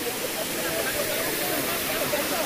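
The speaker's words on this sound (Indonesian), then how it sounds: "Sungai airnya jernih." A clear-water river in the Siron mountains of Aceh Besar rushes steadily, a loud, even wash of flowing water close by.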